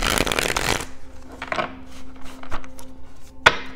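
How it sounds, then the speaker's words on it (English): A deck of tarot cards being shuffled close up: a brisk riffle burst at the start, then softer scattered slides, taps and shuffles of the cards, with a faint steady hum underneath. "All right, one more shuffle and then we'll be good to go."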